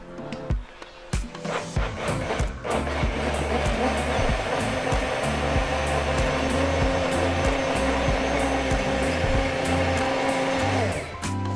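A blender whirs through homemade tomato sauce with a loud, steady motor drone that runs for several seconds after a few short starting pulses, then cuts off.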